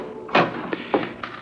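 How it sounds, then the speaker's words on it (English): Knocks on a law office door in a 1978 radio mystery drama, four muffled wooden raps in an uneven pattern, close and distinct against a quiet room. "someone knocked at my door"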